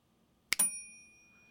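A single bright cartoon bell effect rings once, a sharp metallic strike followed by a clear ringing tone that fades out over about a second in an otherwise quiet background.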